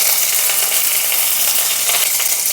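Curry leaves drop into hot oil with tempered mustard seeds for a Kerala-style raw banana mezhukkupuratti, giving a loud, steady hiss of sizzling that runs without a break, with no talking.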